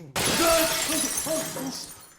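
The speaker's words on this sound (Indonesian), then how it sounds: "Ia pun mencoba menyentuhnya dan malah pecah." A cracked glass door in a disaster-damaged building shatters at a touch: a sudden loud crash, then falling shards tinkling and clinking for about two seconds, with no voices.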